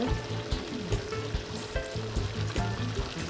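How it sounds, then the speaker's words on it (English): Steady crackling sizzle of fish and bammies frying in hot oil, with scattered pops and bursts throughout; no voices. "Fish is frying and the bammies are frying."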